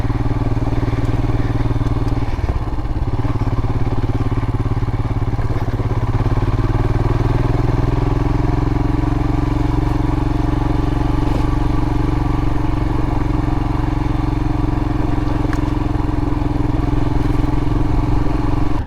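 A Royal Enfield Himalayan motorcycle runs steadily off-road through brush, its single-cylinder engine a constant close drone with occasional clattering knocks and slight pitch shifts as gears change.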